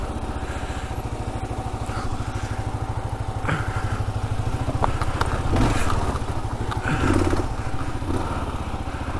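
A Kawasaki KLR650 motorcycle with a 40-horsepower single-cylinder engine thumps steadily while ridden off-road, a loud continuous engine drone close by with slight rises and some crackle, and no talking.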